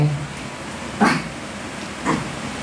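A pet dog in a home gives two short, fairly loud barks about a second apart against a quiet background, with a voice murmuring faintly.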